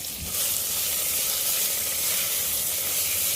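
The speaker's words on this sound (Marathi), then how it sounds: "कांदा छान परतून घेऊया आपण इथे" Finely sliced onions frying in a pan for prawn pulav, a steady close sizzle that starts right after a brief drop-in sound and continues evenly with no talking.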